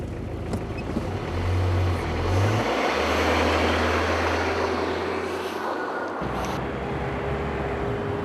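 A car drives along a road in Pakistan, its engine droning steadily with a low hum that shifts pitch as it moves, amid constant road and wind noise, with no talking.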